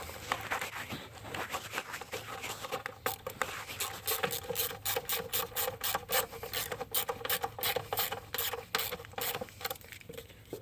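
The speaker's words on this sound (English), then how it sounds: "I'm just going to snug them down with this micro ratchet" A micro ratchet snugs coarse-thread bolts into a plastic intake part on a 3.6L Pentastar engine, giving a rapid series of close, crisp clicking bursts over faint scraping.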